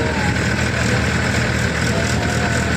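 A tractor engine runs loud and close, a steady continuous rumble with no breaks.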